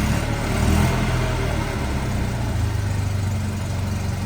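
A 1965 Fiat Jolly Giardiniera idles with a steady low, slightly uneven rumble, close and loud, running alone without talk over it.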